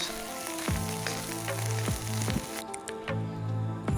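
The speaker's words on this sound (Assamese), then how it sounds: "ইয়াত মই ঢাকোন নিদিয়াকৈ খুব ঘনাই ঘনাই লৰাই লৰাই ভাজি আছোঁ।" Fish eggs fry uncovered in a pan while being stirred often. Close, steady sizzling carries repeated scraping strokes of a utensil against the pan at a roughly regular rhythm, and no one speaks.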